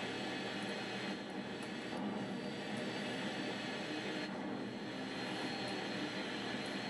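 An airplane engine in the video game GTA San Andreas roars as a steady, broad, unbroken drone, heard alone at an even moderate level.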